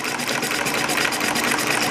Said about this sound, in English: Here we are doing a run-in on this horizontal side shaft engine